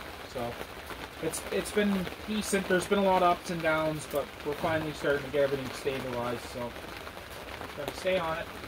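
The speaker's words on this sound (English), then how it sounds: "you can hear the rain in the background. We got a little bit of rain today." Steady rain falls outside, a soft, continuous hiss in the background beneath someone talking throughout.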